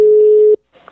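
A telephone tone sounds while a call is being placed, one steady loud beep lasting about half a second, then silence and faint noise.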